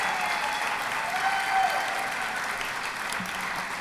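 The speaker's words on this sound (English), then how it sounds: "Can we have another round of applause for our outstanding band?" Audience applause for a high school band at an education summit in New Hampshire, steady and dense clapping from a large crowd that holds at an even level throughout with no voices over it.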